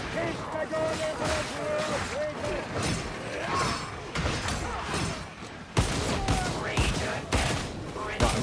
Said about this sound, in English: I'm just gonna take out the gun, mag dump a little